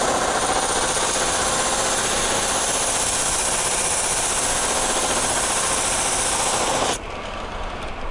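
A buffing wheel spins with a wheel rake pressed against it, giving a loud, steady grinding roar that runs unbroken for about seven seconds before cutting off to a quieter motor hum.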